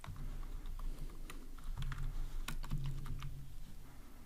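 Typing on a computer keyboard while coding an Android app, a steady run of close, crisp key clicks with irregular rhythm and no talk over it.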